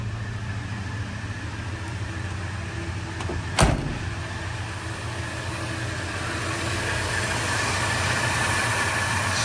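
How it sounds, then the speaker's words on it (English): A 1977 Ford F-100 Custom engine settles into a smooth, steady low idle, a soft continuous hum with one brief sharp knock partway through. "Take it down to a nice low idle"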